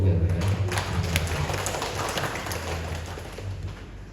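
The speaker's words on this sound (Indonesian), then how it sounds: "Maka tepuk tangan untuk keluarga." A congregation at a Christmas mass in a hospital's finance department hall in Yogyakarta claps together, a dense, steady patter of many hands that carries on throughout and slowly thins toward the end.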